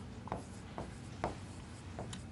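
Trigonometry solution being written out by hand: soft, quiet scratchy strokes come in short irregular bursts, close by, with no voice.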